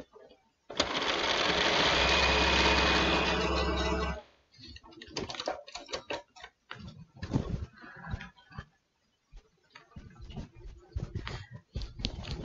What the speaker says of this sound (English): We want to sew with the paper on top.